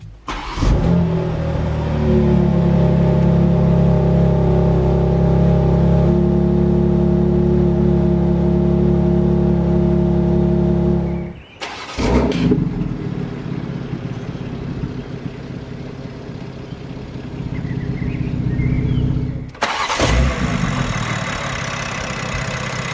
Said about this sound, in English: put your foot on the brake, and hit the button to start